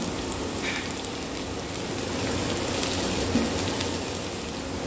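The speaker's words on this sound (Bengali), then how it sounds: "পেঁয়াজটা একটু হালকা লাল লাল করে আমি ভেজে নেব" Chopped onion and green chili fry steadily in a pan, a constant close sizzle with no breaks and no talk over it.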